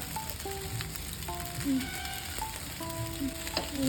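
Red pasta sauce sizzles as it hits the pan and is stirred in, a soft steady fry under faint tonal beeps and hums from the kitchen, with small clinks of the spoon.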